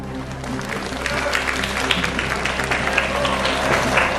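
A crowd claps continuously over a loud, steady musical hum at a beach beauty pageant, the applause swelling a bit after the first second.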